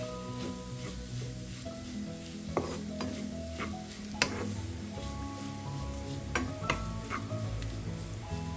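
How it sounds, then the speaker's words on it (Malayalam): Ground coconut paste for brinjal thoran sizzling in a pan while being stirred, with a steady low fry and several sharp spoon taps against the pan, close and fairly quiet, no talk. "അരപ്പിൻ്റെ പച്ചമണം മാറുന്നവരെ ഒന്ന് ഇളക്കി കൊടുക്കാം."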